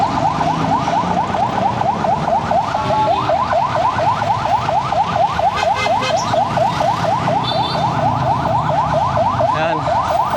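An ambulance siren wails loudly and steadily in a repeating rising-and-falling pattern on a busy street, passing close by while traffic noise rumbles underneath.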